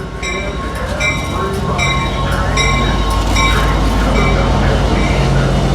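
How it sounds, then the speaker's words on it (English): An Amtrak San Joaquin passenger train led by a 2006 F59PHI locomotive rolls into Bakersfield station with steady rumbling, rhythmic clacking of wheels over rail joints, and a faint squeal, loud and close. "here comes San Joaquin train 715 approaching at Bakersfield station"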